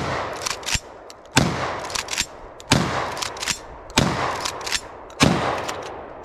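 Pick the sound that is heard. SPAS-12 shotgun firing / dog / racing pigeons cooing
SPAS-12 shotgun firing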